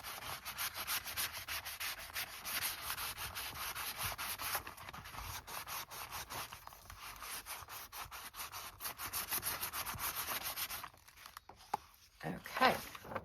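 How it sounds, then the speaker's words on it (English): Rhythmic scuffing strokes rubbing the back of a journal cover, a quiet, close sanding rasp repeated steadily, easing off near the end before a brief louder rustle. "we're going to scuff the back."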